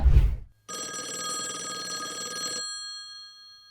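A retro telephone on a coffee table gives one loud, continuous burst of bell ringing, lasting about two seconds, then stops abruptly into silence after a short thump.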